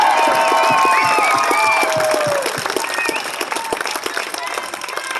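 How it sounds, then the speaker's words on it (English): A crowd at a conservative political rally outside the Michigan State Capitol in Lansing breaks into applause and cheers, with loud clapping and whoops at first that gradually thin out into scattered claps. "Give them a round of applause."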